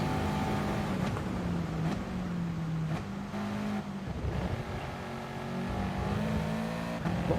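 A Subaru WRX race car in the racing game GT Sport, its engine droning steadily with the pitch climbing and dropping through gear changes, loud and continuous throughout.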